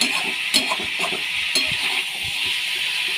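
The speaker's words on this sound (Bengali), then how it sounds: "ভালো করে একটু ভেজে নেব" Potatoes and onions frying in a pan give a steady hiss of sizzling, with a few sharp clicks and scrapes of stirring spread through it, close and fairly loud.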